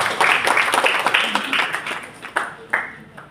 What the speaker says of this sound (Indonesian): Aplaus juga mungkin buat teman-teman GLI dan pelaksana kegiatan Institut di Indonesia hari ini.